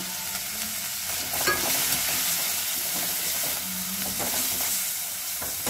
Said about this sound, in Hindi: प्याज जो है वो भून गया है तो इसमें हम सारे मसाले डाल देते हैं।